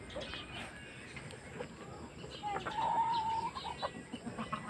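Chickens cluck softly in the background at dusk over a steady outdoor hiss, with a brief thin whistle partway through.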